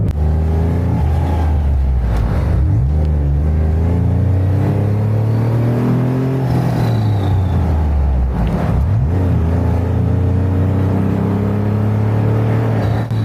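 A Jeep Wrangler engine revving while driving, loud and close, its pitch climbing and dropping through repeated rises and gear changes over a constant road rumble.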